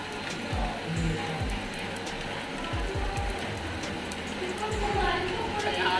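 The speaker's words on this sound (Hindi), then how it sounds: "देखिए एकदम से बारिश आई बहुत सारी।" Steady, dense hiss of heavy rain falling on surfaces in Muzaffarnagar, India, continuous throughout, with scattered low thumps and voices faintly mixed in.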